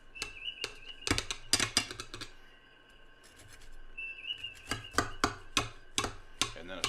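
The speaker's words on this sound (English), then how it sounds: "We're just going to cut this thing right down the middle." A knife cutting down the middle of a pepper-stuffed meat loaf, a series of sharp tapping and slicing strikes against a board in clusters, with a quieter pause midway and whistling in the background.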